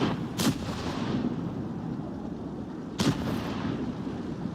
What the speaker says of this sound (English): your artillery gets to fire like long shells